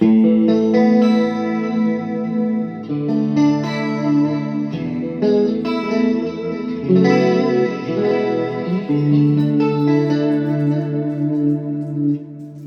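Clean electric guitar chords and melodic lines with a shimmering, wavering chorus effect from a BOSS GT-1000 multi-effects unit, played continuously with some echo and no voices.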